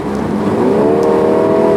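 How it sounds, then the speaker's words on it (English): A 2019 MINI Cooper S Countryman ALL4 with a 190-horsepower engine accelerates hard after a downshift, its engine note climbing steadily in pitch and holding loud and close throughout, with no talking. "how this car accelerates."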